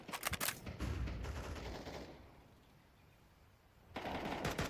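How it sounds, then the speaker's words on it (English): Gunfire crackles during a Counter-Strike match, with a burst of rapid automatic shots at the start, a quieter stretch, then more bursts returning near the end, all fairly faint and with no talking. "A lot of early utility and gunfire here."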